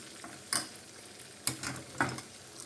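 Soft, quiet sizzle of curry leaves frying in hot oil for a tempering, broken by three sharp clacks of a spoon stirring the pan.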